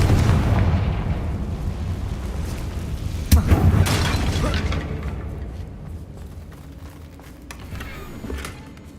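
A Confringo spell goes off in Hogwarts Legacy as a loud booming blast, with a sharp burst near the middle and a rumbling tail that fades toward the end.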